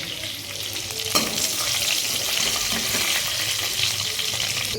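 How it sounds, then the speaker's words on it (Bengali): Katla fish shallow-frying in hot oil, a dense continuous crackling sizzle with an occasional sharp clink of a spatula, close and fairly loud throughout, no speech. "অলমোস্ট আমার শ্যালো ফ্রাই হয়ে গেছে"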